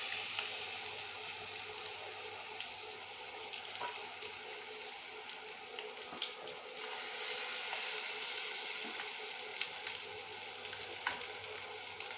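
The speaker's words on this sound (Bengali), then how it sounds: "আমি এই ডিমগুলো ভেজে নেব" Eggs frying in a pan for a red egg curry give a steady, close crackling sizzle that runs the whole time with no talk, with a few sharper pops and a brief brighter hiss partway through.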